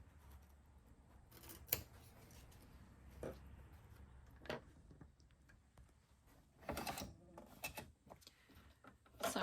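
Sewing scissors snip through two layers of fabric close to a stitch line, giving several separate crisp cutting clicks spaced a few seconds apart, near and quiet in an otherwise still room.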